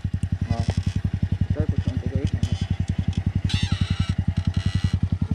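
A pit bike motorcycle engine thumps in a fast, steady idle with slight revs, close and loud, while people talk briefly over it.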